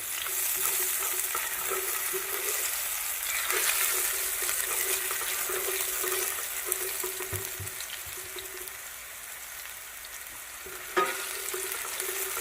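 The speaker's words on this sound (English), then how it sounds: "Here I have 2 cloves of garlic and the whites of scallions. I'm going to quickly saute this." Garlic cloves and scallion whites sautéing in a pan, with a steady close sizzle and hiss throughout, broken by occasional soft clinks from stirring.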